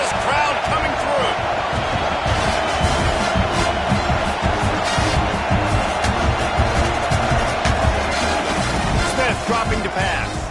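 Loud, dense stadium crowd roaring continuously at a college football game as the defense pins the offense back, mixed with commentary voices throughout.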